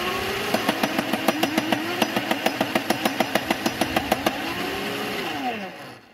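Outdoors in wind, a modded Nerf Stryfe blaster fed pro darts from a 25-dart drum fires a rapid, even run of about two dozen sharp shots over the whine of its flywheel motors, which then spin down.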